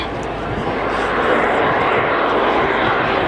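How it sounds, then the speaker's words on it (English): An aircraft makes a very slow fly past at an airshow, its engine drone a loud, steady, broad roar that swells slightly throughout. "I think we're going to see him do a very slow fly past, about 105 knots"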